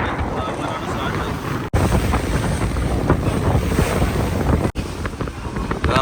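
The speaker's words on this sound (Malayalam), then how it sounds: "നമ്മളെ കടത്തിയിട്ടൊരു സ്പീഡ് ബോട്ട് പോകുന്നുണ്ടോ" A speed boat passes on the open sea near Coral Island off Pattaya, its engine rumble blended with heavy wind buffeting the microphone and the wash of waves.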